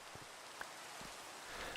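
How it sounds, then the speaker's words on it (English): Rain falling in the Minecraft video game, a steady soft hiss of droplets with a few faint taps, even and continuous without speech. "And it's raining in the game."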